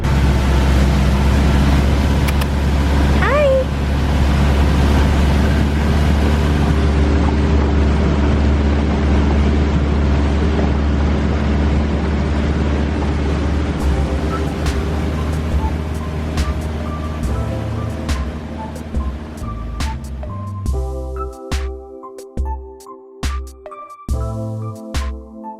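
A small boat motor drones steadily over lapping water, then cuts into choppy bursts near the end.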